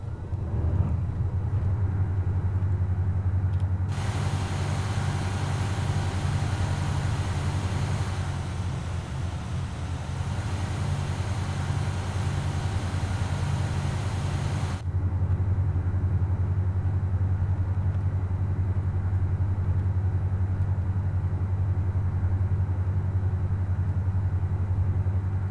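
An armored vehicle drives in the video game IFA3 Blitzkrieg, a constant low engine rumble throughout, with a brighter roaring surge of engine and track noise in the middle stretch before it settles back to a steady drone.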